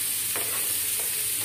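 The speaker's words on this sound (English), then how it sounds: "After a few minutes, I put chopped onion. And then fry it." Chopped onion sizzles and fries in a pan for egg curry, a steady close hiss with a couple of short scraping stirs.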